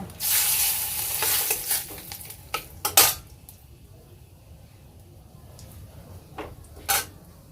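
Dry red chilli and bay leaves sizzle in hot oil in a pan for Bengali motor dal, a steady frying hiss with several sharp clanks of a spoon or utensil against the pan.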